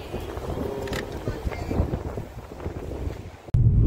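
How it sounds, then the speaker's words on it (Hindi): Cold wind at the seaside in Folkestone near Dover buffets the microphone with a steady, gusty rumble while someone talks over it, ending in a sudden sharp cutoff. "ठंडी हवा भी चल रही है, ठंडी हवा चल रही है"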